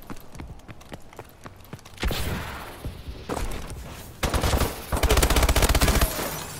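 Gunfire in an online match of the video game Call of Duty Advanced Warfare: crisp, evenly spaced single shots that give way to louder, dense rapid bursts near the end.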